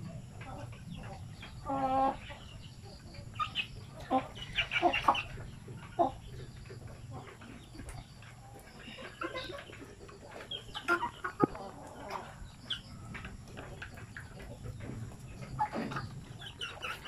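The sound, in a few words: native chickens clucking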